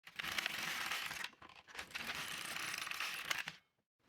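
An LK150 knitting machine carriage is pushed across the needle bed for two rows. Each pass makes a loud, close, rasping mechanical rattle of about a second, with a short pause between the two passes, and then stops.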